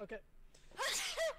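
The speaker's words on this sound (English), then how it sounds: "She sneezed right into the mic." A person sneezes right into a headset microphone, sharp and very close, after a brief spoken word and a faint breath.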